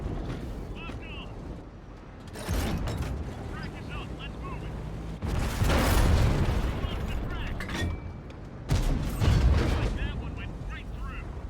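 Tank cannon shots in the World of Tanks game, firing from an AMX M4 51, land as three heavy booming blasts spaced a few seconds apart, each leaving a rumbling tail, with battle ambience and a voice talking between them.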